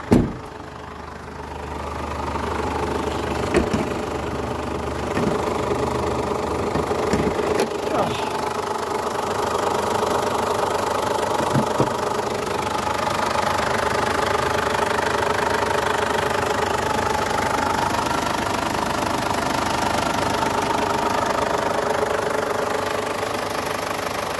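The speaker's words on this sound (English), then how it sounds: "Listen to the engine." A 2009 Ford Ranger 2.5 TDCi double cab diesel with 140k miles idles with the bonnet open, giving a steady, close, knocking diesel clatter that runs evenly throughout.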